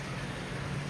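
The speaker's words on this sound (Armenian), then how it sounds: "արդեն 3 օր է մեզ մոտ անձրև է գալիս, անդադար գիշեր ու ցերեկ անձրև է ու մռայլ եղանակ" Steady, dense rain pours outside after three days of nonstop downpour, a continuous even hiss with low rumbling underneath and no voices.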